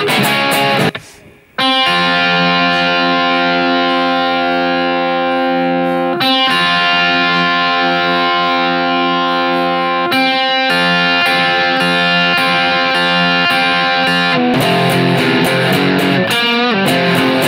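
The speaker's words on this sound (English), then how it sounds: "We kick in some distortion and have kind of like more a clean tone there" Electric guitar through a distortion effect plays a riff, loud and sustained with thick, buzzing chords, pausing briefly near the start and changing chords every few seconds.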